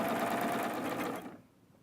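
A serger sewing machine whirs steadily at close range while stitching a crochet edge for a DIY witch hat, then stops abruptly and falls quiet.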